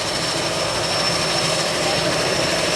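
A small airplane's engine drones steadily and loudly nearby, a constant broadband roar with a thin high whine, heard just before passengers board for a flight to a Maasai village in Kenya or Tanzania.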